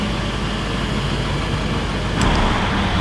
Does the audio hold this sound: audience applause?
no